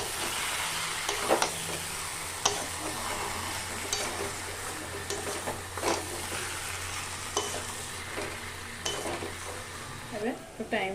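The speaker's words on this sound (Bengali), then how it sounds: "এবার একটু টাইম নিয়ে এটা ধীরে ধীরে এটাকে নিয়ে ভাজতে হবে আস্তে আস্তে" Chichinga frying slowly with ground sesame paste in a pan, a steady soft sizzle with scattered scraping stirs and light utensil clicks throughout, close and alone without talk.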